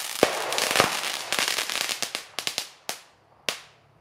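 A rapid series of sharp firework bangs and cracks, dense at first, then thinning out to a few isolated loud pops with brief echoes.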